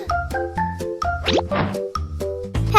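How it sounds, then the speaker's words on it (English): A small toy trumpet is blown for a cartoon effect: short, bright honking notes repeat in a bouncy rhythm, broken by a quick springy sliding wobble, loud and close with no talking. "Peppa gently blows into the trumpet."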